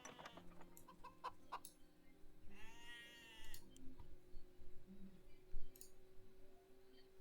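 Chicken clucking in the video game Stonehearth, a few short bird calls scattered over a quiet game backdrop with a steady low hum, one brief harmonic call standing out in the middle.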